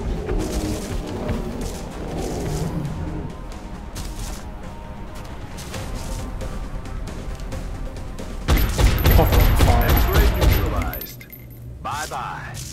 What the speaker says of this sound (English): Lovely covering fire.